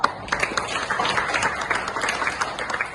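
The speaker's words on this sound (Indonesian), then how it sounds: "Bagus, nih tepuk tangan dulu." Classroom applause from junior high students during an Indonesian-language lesson, a dense, steady patter of many hands clapping together for about three seconds with no talk over it.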